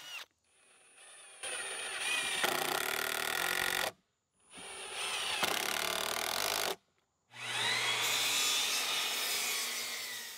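Three bursts of a drill biting into a wooden post, separated by short silences, each a grinding whir close up.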